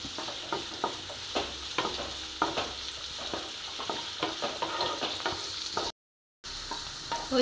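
Ginger, green chilli, curry leaves, garlic, cumin and onion sautéing in hot oil, a steady sizzle broken by repeated scraping stirs of a spoon, close and fairly soft, with a brief dropout near the end.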